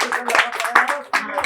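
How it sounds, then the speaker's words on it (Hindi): An audience claps in a brief burst, several sharp irregular hand claps close by, with voices overlapping the applause. "ताली इनके लिए बजा दो।"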